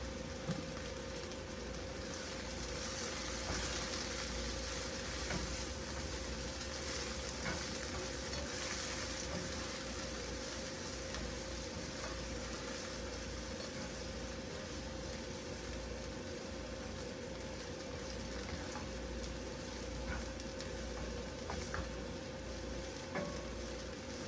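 Food seasoned with a little garlic fries in a pan, giving a continuous close crackling sizzle with occasional sharper pops, steady and unbroken for the whole stretch.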